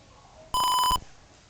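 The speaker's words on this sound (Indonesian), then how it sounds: "apabila dia semakin tinggi, maka bunyi buzzer akan lebih panjang" A buzzer on an ultrasonic height-measuring sensor gives one steady, loud electronic beep lasting about half a second, clear and close, with quiet room noise before and after.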